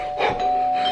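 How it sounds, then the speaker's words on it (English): A doorbell rings indoors at night, a brief, steady electronic chime tone held for under a second, fairly close and clear. "I hear the doorbell ringing right now."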